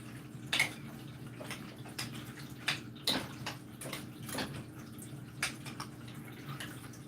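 A spoon stirs non-dairy mac and cheese in a pot, making an irregular series of soft clinks and scrapes against the metal over a quiet background.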